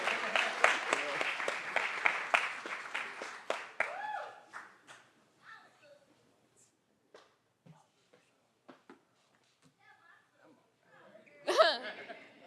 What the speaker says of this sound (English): Keep clapping. It's going to take a little minute to get over here.